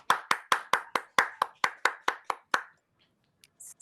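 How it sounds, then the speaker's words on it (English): A single pair of hands clapping about twelve times in a quick even rhythm after a poetry reading at a Refugee Week showcase, close and crisp, then stopping into near silence. "A round of applause for Ben"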